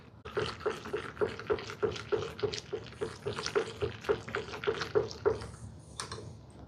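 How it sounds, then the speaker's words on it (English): Eggnog mixture whisked in a pot, a steady run of quick metallic clicks and scrapes repeating in an even rhythm, close and moderately loud, stopping near the end. "All that mixture into there. And we're gonna whisk that."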